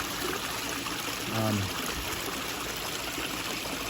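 Water from a small waterfall trickles and splashes steadily into a pond, a constant soft rush with a brief low voice partway through.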